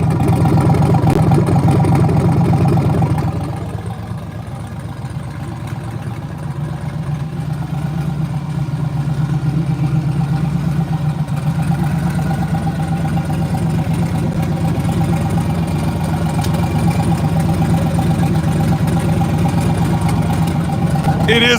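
An LS-swapped twin-turbo Nissan 300ZX, exhaust exiting through the bumper, idles with a steady low rumble throughout, and a voice talks over it.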